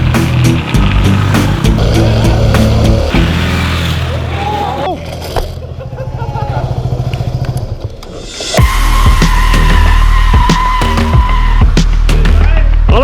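Supermoto motorcycle sliding on an indoor track, its engine loud and close, revving hard and dropping off, with skidding tyre noise and people talking over it.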